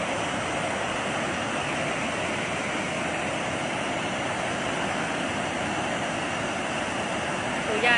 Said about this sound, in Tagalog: Mga mas mataas pa to sa bahay yung pagpapalabas ng tubig.